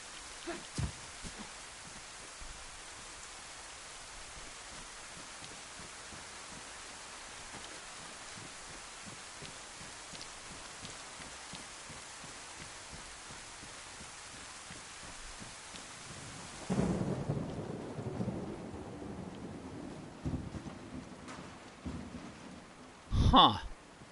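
Steady rain hisses on and on across a DayZ landscape with brief scattered crackles, then a louder rumble swells in near the end and a sharp thunder crack closes it.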